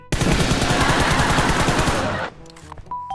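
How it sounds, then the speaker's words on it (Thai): A long, loud burst of rapid automatic gunfire in the mobile game PUBG Mobile rattles for about two seconds, then cuts off, leaving faint tones and clicks. "เราได้ยินเสียงปืนแล้วหนึ่งกระบอก"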